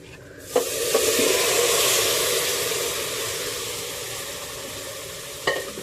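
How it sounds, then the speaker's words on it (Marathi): Mutton sizzling and sautéing in a hot pan over a high flame, a loud, steady frying hiss that starts abruptly and holds for several seconds, with a few stirring clatters near the start and end. "हे मटण 3 ते 4 मिनिटं असं हाय फ्लेमवर परतून घेऊया।"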